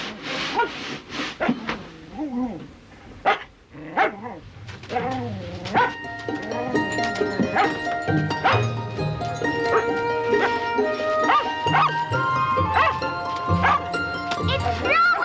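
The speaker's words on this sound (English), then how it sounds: "What's Jack barking" A dog yips and barks several times in quick bursts at the start, then music and other sounds take over with talk mixed in.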